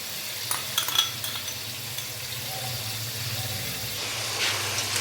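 Chicken karahi fries in a pan after salt and garlic paste go in: a continuous close sizzle and hiss, broken by the scrape and clatter of a spoon stirring near the start.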